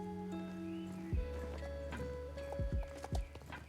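A mare in the Star Stable horse-riding game makes rhythmic clip-clop hooves, with a few distinct steps and a short whinny over soft background music.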